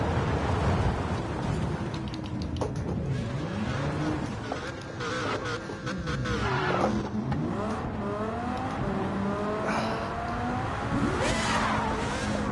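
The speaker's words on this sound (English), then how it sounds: "this car does sound amazing and can be pretty violent to drive sometimes" Race car engine in Gran Turismo 7 revving and shifting through gears, its sweeping whine rising and falling steadily and loud throughout, with no talk over it.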